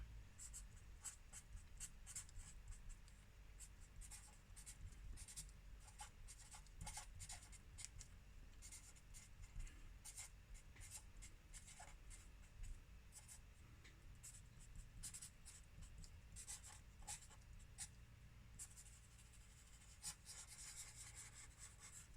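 A pen writes on paper for over twenty seconds in a quiet room while notes are jotted for a biology lesson, making soft, close scratches and rubs in irregular bursts.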